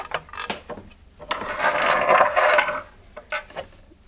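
A Babylock Enlighten overlocker's stitch length dial clicks and ratchets as it is turned by hand, a close, quiet run of small mechanical clicks with short pauses in between.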